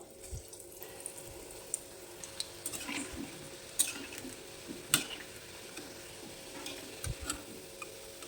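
Banana flower chops fry in oil in a pan, giving a steady soft sizzle with scattered sharp pops and crackles, fairly quiet throughout and with no voices.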